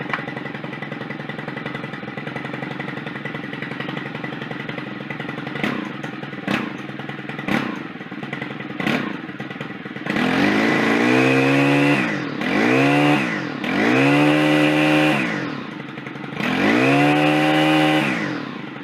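Stihl FS 4-Mix trimmer engine: faint clicks first, then the engine starts and revs up in several loud, rising and falling bursts close by, no talking.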